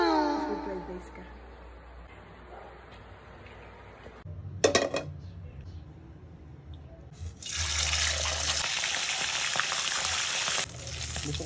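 Daing, dried fish marinated in vinegar and garlic, is frying. A loud, steady sizzle starts partway through and keeps going to the end, after a quieter stretch with some clinks and what may be voices.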